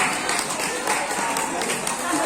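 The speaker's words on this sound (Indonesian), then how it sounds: "tepuk tangan untuk kita semua." Audience applause at a Solo gathering of entrepreneurs: a continuous wash of clapping from a crowd, even and fairly loud throughout.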